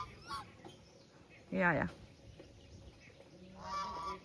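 Ducks approaching on a farm with a cow nearby give a short loud burst of honking quacks mid-clip, with fainter calls before and after, mixed with outdoor noise and brief talk.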